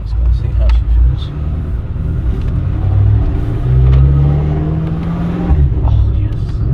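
BMW M5 with a built engine driving on the road, a steady loud engine drone with rising and falling revs throughout, briefly interrupted near the end, with speech mixed in.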